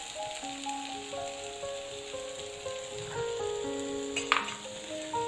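Mint and coriander leaves sautéing in hot oil in a pan for plain parotta salna, giving a steady soft sizzle and crackle throughout, with background music tones and one brief sharper clink near the end.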